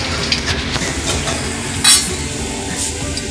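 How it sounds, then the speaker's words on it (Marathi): Bhel, a puffed rice snack, being stirred and tossed with tomato, red chilli and masala at a snack stall, a soft continuous scraping and rustling with a few light metallic clinks. "आणि भेळमध्ये अशा एकदम खतरनाक अशा व्हरायटी मिक्स करत आहेत नाही बघ"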